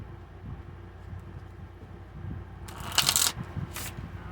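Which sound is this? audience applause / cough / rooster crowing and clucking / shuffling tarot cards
shuffling tarot cards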